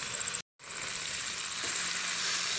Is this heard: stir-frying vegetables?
yes